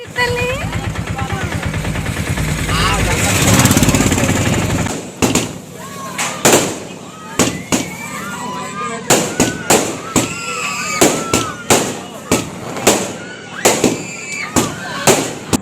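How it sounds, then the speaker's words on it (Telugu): Firecrackers pop and crackle at a birthday function: a dense rattling string at first, then a long series of loud, irregular sharp bangs close by, with voices audible in the background. "ఫంక్షన్ స్టార్ట్ అయిపోయింది బాంబులు వెలిసిరు"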